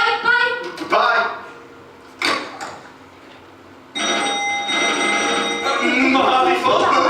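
A payphone at the Mojave Desert phone booth rings in a few bursts with short pauses between them, followed by a longer, steadier stretch of ringing. No one speaks.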